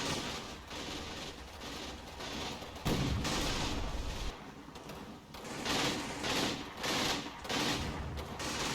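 Artillery barrage and rifle fire in Combat Mission's Kampfgruppe Peiper battle, heavy booming impacts and crackling shots rolling on in bursts across the battlefield, loud and continuous.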